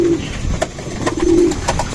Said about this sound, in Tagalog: So ayan na nga mga kalapatids.